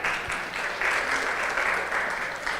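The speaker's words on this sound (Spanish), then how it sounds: "Un aplauso a Marvin." An audience applauds a man named Marvin during a church sermon, a steady wash of clapping that holds evenly for a few seconds with no voices over it.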